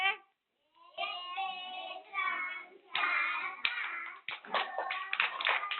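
Preschool children clap their hands to mimic falling rain, a scattered patter of claps that grows busier and louder toward the end, mixed with a teacher's and children's voices.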